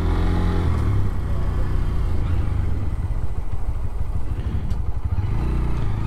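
A Bajaj Pulsar N125 motorcycle ridden at steady speed in gear, its engine a continuous close drone with some clatter and wind rumble throughout, no talking.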